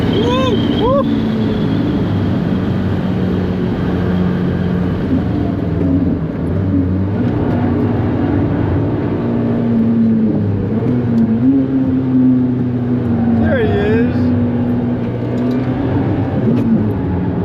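A Daihatsu Copen at the Nürburgring held in 5th gear near its top speed, a loud steady engine drone with rising and falling tones, wind rushing over the car and voices over the roar.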